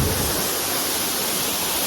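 A constant, heavy rush of water from Powerscourt Waterfall, Ireland, fills the scene with broad, even roaring noise, close and loud throughout the short stretch.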